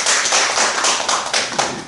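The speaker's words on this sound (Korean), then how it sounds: "박수." Congregation applauding during a Korean Presbyterian church service after new members are welcomed, a dense steady patter of many hands clapping close by throughout.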